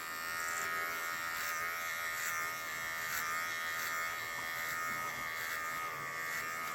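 An electric hair clipper buzzes steadily and close by as it trims the back of a head at the number 3 guard setting, holding a continuous whine throughout with no talk.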